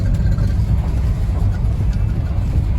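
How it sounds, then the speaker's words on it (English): A 1977 Ford F-250 rolls down the road with its muffler dragging on the pavement, producing a loud, continuous low rumble overlaid with a rough, steady scraping hiss. "You can hear the muffler dragging on the ground."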